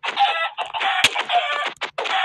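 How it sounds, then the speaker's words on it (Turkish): Chickens in Minecraft clucking in a rapid run of short, loud, close squawks that come one after another. "Tavuklar saldırıyor bana ya."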